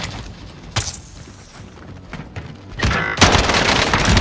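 Gunfire in a multiplayer shooter video game, with scattered single shots early on, then a loud, dense burst of rapid automatic fire toward the end.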